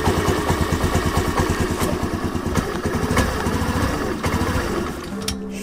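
A Honda Navi minibike engine idles with the choke on, a loud close uneven chugging putter that stumbles slightly, then drops lower and rougher near the end as if about to stall.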